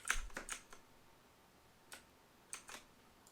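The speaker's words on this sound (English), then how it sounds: "So I'm navigating this with my arrow keys here." Computer keyboard arrow keys pressed in a few quick, quiet clicks, a short cluster at the start and then two more isolated taps after a pause.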